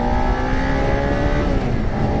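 Suzuki SV motorcycle engine pulling hard in first gear, a steady loud drone with rising harmonics as revs climb, close and continuous without any talk.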